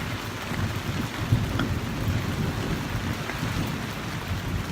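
A thunderstorm with rain falling steadily on surfaces and a low, rumbling roll of thunder underneath, a continuous dense wash of sound with no talk.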